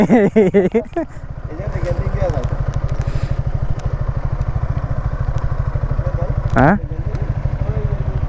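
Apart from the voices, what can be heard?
motorcycle riding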